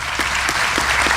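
A concert audience at a songs show applauds a keyboard player, loud sustained clapping from a large crowd throughout, with a few stronger claps standing out.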